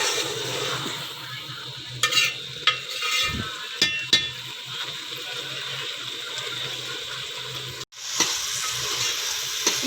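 Grated pumpkin halwa sizzles steadily as it roasts in a pan, close and continuous. Occasional scrapes and knocks from the spoon stirring it break through, and no one speaks.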